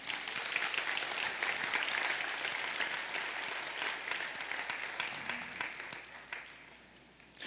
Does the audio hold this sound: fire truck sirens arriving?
no